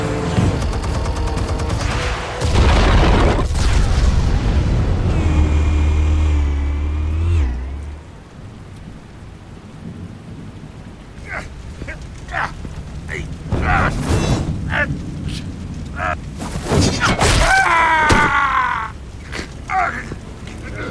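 Explosives detonating in Batman: The Telltale Series: a loud low rumbling blast around the start, followed by scattered sharp bangs and debris crashes later, with a voice speaking during the sequence.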